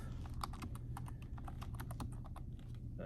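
Rapid keystrokes on a computer keyboard clatter in a quick irregular stream of sharp, close clicks over a low steady hum, with no talking.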